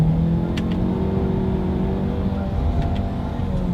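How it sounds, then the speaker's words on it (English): A 2020 Lincoln Nautilus SUV engine revs steadily as the paddle shifters are tried, a sustained loud droning note with slight pitch changes and brief clicks of gear shifts, heard alone. "Let's do a quick little paddle shifter test here, and let's see how quickly they react for us."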